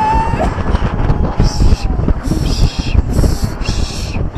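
Loud, rushing wind buffeting the microphone in heavy gusts, with low rumbling throughout and no clear voices.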